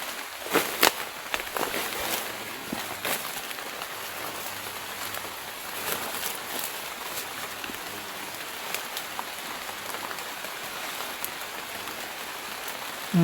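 A heavy downpour drums continuously on surfaces nearby, a dense steady patter of raindrops with scattered sharper hits.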